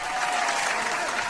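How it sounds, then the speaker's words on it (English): A short burst of dense crowd applause, even and sustained through its full length with no voices over it. "Round of applause to that."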